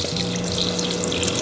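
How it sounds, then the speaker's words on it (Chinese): Tap water running in a steady gentle stream while rinsing a swimming crab after its gills are removed, a close continuous splashing hiss. "鳃处理过后还是有点脏东西，我们就开一点点水，稍微清洗一下哈"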